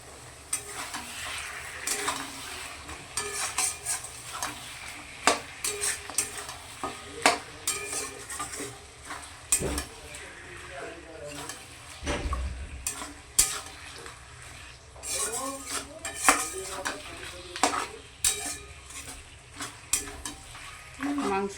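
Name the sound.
mutton being braised and stirred in a pot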